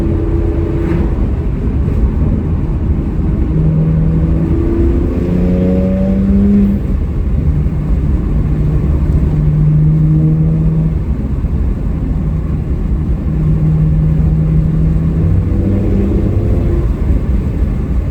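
Loud, raspy straight-piped car exhaust drones continuously, with rising and falling engine tones as the throttle is worked, no voices.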